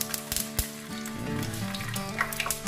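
Fish marinated in vinegar with garlic, pepper and salt sizzles in hot oil in a pan, a steady close crackle with a few sharp pops near the start and faint tonal background sounds.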